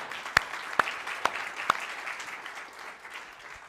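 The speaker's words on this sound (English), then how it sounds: "Yeah, you guys are clapping." A church audience claps, a dense wash of applause with several sharp louder claps standing out early on, moderately distant and steady, no voices on top.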